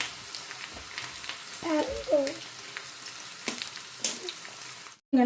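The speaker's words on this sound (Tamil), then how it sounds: "இப்போ நாங்கள் மீதி இருக்கிற வெங்காயத்தையும் இதே மாதிரி கோல்டன் ப்ரௌனாக பொறித்து எடுத்துக்கொள்ளுவோம்" Onions frying until golden brown in oil for a dried prawn sambal hiss in a steady sizzle with occasional stirring knocks and scrapes, while a voice briefly speaks over it near the middle and again at the end.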